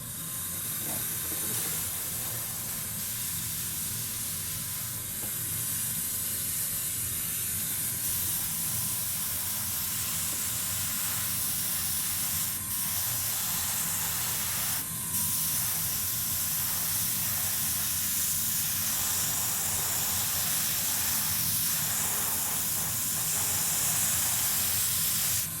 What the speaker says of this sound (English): let's fire up the compressor and